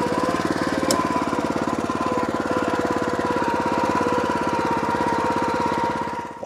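A brush spreader top dresser from Turf drones steadily while spreading sand over a lawn in autumn, its engine chugging in a fast, even rhythm close by before tapering off at the end.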